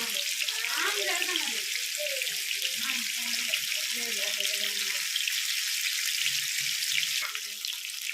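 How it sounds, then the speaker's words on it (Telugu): Pieces of murrel fish fry in hot oil with a loud, steady, continuous sizzle throughout, and faint voices are heard briefly in the background. "కొన్ని ముక్కలు వేపుకుందామండి వేపుకున్న తర్వాత మిగతా ముక్కలు వేపుకుందాం"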